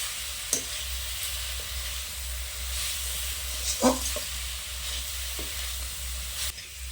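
Coconut filling cooks in a pan over low heat, giving a soft steady sizzle and hiss with occasional spoon stirs and scrapes, close and fairly quiet, with no talking.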